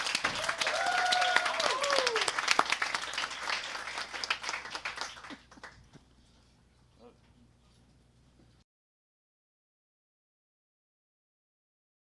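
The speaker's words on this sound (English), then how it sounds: "One last round of applause" An audience applauds a band after a live music show, a dense burst of clapping with a whistle or two that carries for about five seconds, then fades into quiet room tone.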